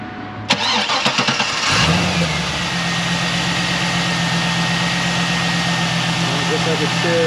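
A 2002 Pontiac Trans Am WS6 with a stock LS1 V8 cranks with a quick starter whir, catches, and flares loudly before settling into a steady, rumbling idle, heard close up and alone.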